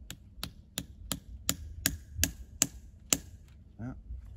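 A tap being hammered into a sugar maple trunk: about nine sharp, evenly spaced knocks ring out close and loud, followed by a softer, duller final knock near the end, with no voices.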